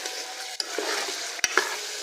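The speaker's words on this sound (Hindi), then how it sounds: "अब हमने इसको अच्छी तरह मिक्स कर लेना है।" A spoon stirs ginger garlic paste into kadai gosht in a sizzling pan, a steady fry hiss broken by a few scraping knocks against the pot, close and clear with no voice.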